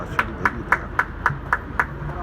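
At a groundbreaking ceremony for a memorial, a few sharp, evenly spaced claps ring out in a steady rhythm, roughly four per second, then thin away over a low background murmur.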